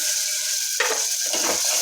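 Ground tomato hits hot oil for sambar with a loud, hissing sizzle, broken by a couple of scraping stirs in the pan near the end; no one speaks.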